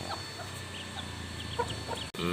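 Chickens cluck softly and steadily nearby while being fed, a few short calls scattered over a quiet background, with a brief click near the end.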